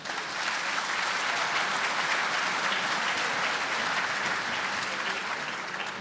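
A hall audience at a mayor's New Year reception in Bourg-lès-Valence claps for the deputy, a dense, steady round of applause that swells in and holds.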